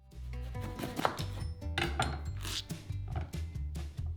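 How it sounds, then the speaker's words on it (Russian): A knife cuts a watermelon in half, giving close, crisp crunching and slicing strikes with a juicy, wet texture, heard alone without talk. "Все, что нам нужно сделать, так это разрезать арбуз напополам с помощью ножа."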